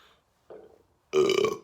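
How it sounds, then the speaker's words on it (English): A man lets out a loud, close burp lasting about half a second, preceded by faint quieter sounds, while he relaxes with a cigar. "Excuse me, I burped."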